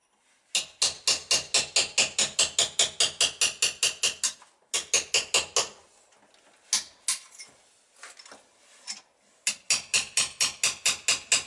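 Hammer striking a chisel during a crank rebuild on an XS650 motorcycle, rapid rhythmic metallic blows in quick runs of a dozen or more, close and sharp, with a pause and a few scattered taps before another run.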